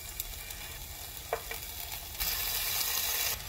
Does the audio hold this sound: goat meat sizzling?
yes